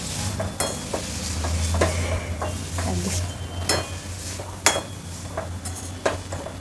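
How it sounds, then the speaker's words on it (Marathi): A pav bhaji masher presses cooked vegetables in a pan, giving repeated soft thumps and scrapes against the metal at an irregular pace over a low background hum, close and moderately quiet. "पावभाजीच्या मॅशरने थोडंसं प्रेस करायचं आहे"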